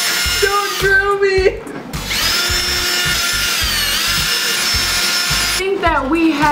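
A power drill grinds into a giant gummy bear in a loud, sustained whine of about four seconds. Shorter bursts of drilling come before and after it, with voices talking around the drilling.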